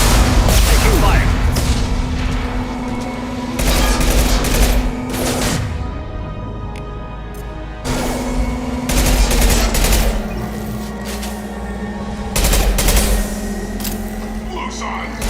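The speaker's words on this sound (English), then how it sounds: "Taking fire!" Gunfire in the video game Mass Effect 2 comes as dense, continuous bursts of automatic fire and booming impacts, loud and close, with a brief lull partway through and shouted squad voices over the shooting.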